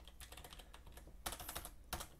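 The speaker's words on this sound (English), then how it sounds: "you would type these series of inputs" Rapid clicking and clacking keys typed on a computer keyboard while entering emulator controller inputs, an uneven run of close keystrokes with a couple of louder bursts, no voices.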